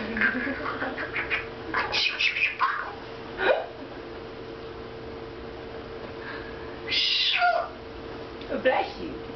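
A single sharp, breathy sneeze bursts out near the end, standing clear of the quieter chatter and soft animal-like sounds around it.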